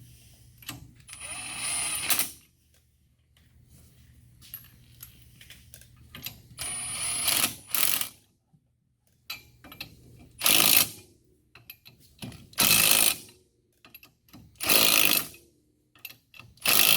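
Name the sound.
ratchet tightening nuts on Can-Am Defender wheel spacers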